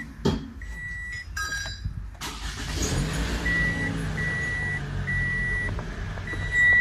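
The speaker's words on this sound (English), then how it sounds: "and when I start the car," A car engine starting after a connector has been plugged back in, with a click and a short dashboard chime, then a steady low idle rumble joined by repeating warning beeps, with no talk.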